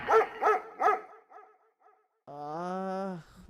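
A dog barks three times in quick succession, close and loud, then a few fainter yips trail off, followed by a sustained whining or howling tone.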